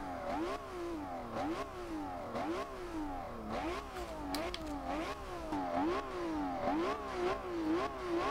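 A 2010 Lamborghini Murcielago LP 670-4 SV in Forza Horizon 2 revs hard through repeated upshifts, each climb in engine pitch cut by a quick drop, forming a steady rising-and-falling cycle with faint turbo hiss beneath.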